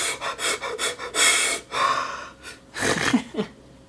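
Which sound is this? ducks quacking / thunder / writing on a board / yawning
yawning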